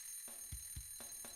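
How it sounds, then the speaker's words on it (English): Alarm clock ringing in the visual novel game ONE, a short faint burst of quick repeated metallic strikes in a steady rhythm over a constant electronic hum. "The shrill sound of the alarm clock."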